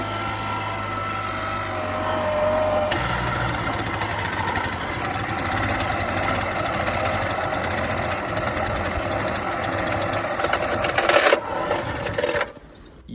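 A small engine on a homebuilt bike trike runs with a harsh, fast metallic rattle from its one-way clutch, metal tabs striking metal. The clatter is loud and continuous for about eleven seconds, then cuts off abruptly.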